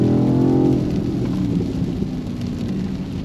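Heavy rain drums steadily around a moving BMW XM, with a low engine and road rumble underneath; an early tonal hum fades after the first second.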